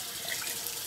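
Tap water runs steadily into a bathroom sink while a razor is rinsed during a cold-water shave, a close, continuous hiss with no speech.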